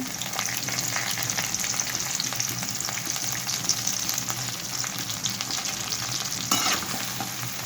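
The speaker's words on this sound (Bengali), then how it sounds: "দিয়ে দিচ্ছি দারচিনি, এলাচ, তেজপাতা।" Cinnamon, cardamom and bay leaves fry in hot oil with chopped onion, a steady, close crackling sizzle that runs throughout, with light stirring and one brief louder flare near the end.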